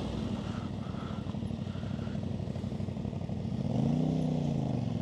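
A CFMOTO 450 MT motorcycle engine runs steadily while riding offroad, a continuous close drone with a rising rev surge near the end, no talking.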